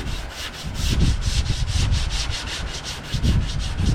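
Coarse 80 grit sandpaper is rubbed back and forth over body filler on car bodywork in steady, loud, rhythmic strokes, roughly three per second, with no talk.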